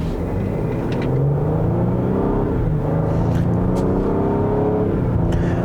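A 2021 Lincoln Aviator luxury three-row SUV pulls under acceleration with a steady, muted engine growl that rises gently in pitch, heard from inside the cabin with constant road rumble beneath.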